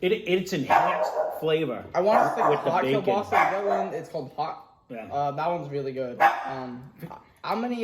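A dog standing in a front yard barks and yips repeatedly at nearby people during an outdoor cookout, its barks mixed in with steady conversation close by.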